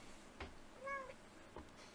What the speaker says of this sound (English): Here comes the cat. She wants a turn.